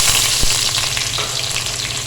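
Finely chopped onions hit hot oil left over from frying eggs and crackle in a steady, loud, close-up sizzle, with a dull clunk early on; no one speaks.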